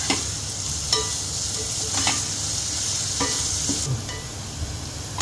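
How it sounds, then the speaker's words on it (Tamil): Two chopped medium onions sizzle in a pan for a paneer dum biryani, a steady close hiss of frying with a few soft scrapes of stirring, continuous and unaccompanied by speech. "ஆனியன் நல்லா ஃப்ரை பண்ணிக்கலாம்."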